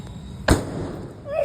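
One sharp firecracker bang cracks out suddenly, followed by a short decaying rumble and a faint rising whistle at the end.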